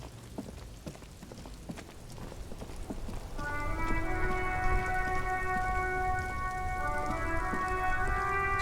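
Rain in the video game Disco Elysium, a steady soft hiss of falling drops that grows fuller partway through as a sustained musical tone rises over it, with no talking.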